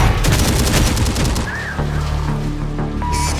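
Heavy gunfire and explosions in a war video game, rapid bursts of shots and deep booms crowding together loudly, then giving way to a lower rumbling drone with faint electronic tones.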